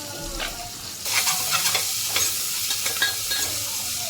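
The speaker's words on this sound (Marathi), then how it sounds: "त्याच्यामध्ये कांदा टाकून घेणार आहे" Onion drops into hot oil with cinnamon, cloves and bay leaf, setting off a sudden loud sizzle that holds steady under several close scraping stirs of a spoon.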